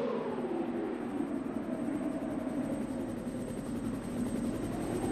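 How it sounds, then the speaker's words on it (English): A helicopter arrives in Resident Evil, its rotor and engine roar holding steady and loud throughout with a constant rhythmic thrum and a high whine on top, no voices over it. "That is one of the quickest helicopter landings I've ever seen, actually."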